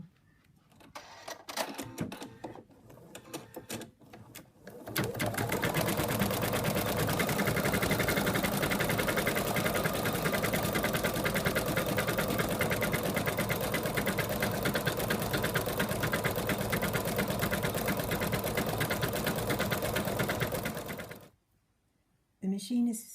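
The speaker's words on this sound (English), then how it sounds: "The machine is finished embroidering the white of the eyes" An embroidery machine stitches a zipped ladybug purse in the hoop, a loud, fast, steady mechanical chatter running nonstop after a few starting clicks, then stopping abruptly near the end.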